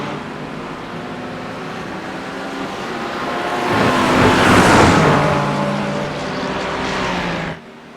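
GT3 race cars screaming past in a sim racing event at Monza, a steady roar of high-revving engines swelling as a pack passes close by, then fading and cutting off abruptly at the end.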